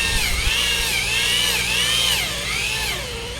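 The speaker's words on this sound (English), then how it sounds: "Rowan needed a longer drill bit to get through the 24 inches of material in the breast hook" A power drill with a long auger bit runs steadily with a high, whining pitch that rises and falls slightly as it bores through 24 inches of a boat's breast hook, loud and close throughout.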